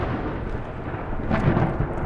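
Thunderstorm outside in the horror game Supernatural: a broad, dense low rumble of thunder and rain that swells slightly, heavy and continuous, with no talking.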